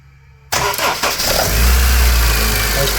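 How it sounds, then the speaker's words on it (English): A Honda Civic 1.8 VTEC with a major oil leak starts up: after a quiet moment the starter cranks briefly, the engine catches with a loud roar, then settles into a steady, close idle. "Okay guys, I'm going to start the car."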